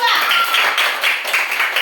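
A classroom group claps for the second group of students after their arts and culture performance, a dense, steady patter of many hands sustained throughout, with voices mixed in.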